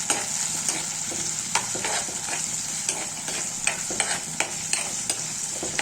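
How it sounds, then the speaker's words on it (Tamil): Onions and tomato sautéing in a pan for a small-fish curry, a steady close sizzle broken by repeated scrapes and clicks of stirring, with no voices. "வெங்காயம் கொஞ்சம் வதங்கி வந்ததும் ஒரு தக்காளி சேர்த்துக்கலாம். தக்காளி நல்லா வதங்கணும்."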